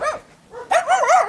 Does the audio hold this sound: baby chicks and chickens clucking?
no